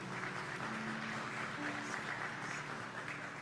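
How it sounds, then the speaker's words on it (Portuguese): Congregation in a church service clapping together in sustained applause for Christ, a steady dense wash of many hands with faint murmuring, no talk over it. "Uma salva de palmas a Cristo."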